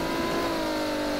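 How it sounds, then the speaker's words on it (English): A racing car engine in the rFactor 2 driving game revs steadily at high pitch, a continuous racing drone with a faint whine, loud and close throughout. "this car sounds amazing"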